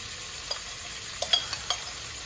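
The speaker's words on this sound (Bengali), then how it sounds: "পেঁয়াজের সঙ্গে ভালো করে কষবো চিকেনটাকে।" Chicken pieces cooking with onion in a pan: a quiet steady sizzle with a few soft scrapes and taps of a spoon stirring, close and low in level, no voices.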